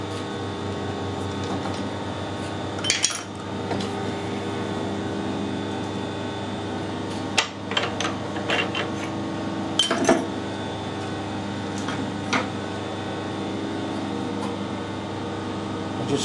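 A lathe fitted with a ball turner shapes a ball on the end of a blank screwed onto a 12mm bolt held in the chuck, giving a steady mechanical hum with a few sharp clicks and knocks scattered through it.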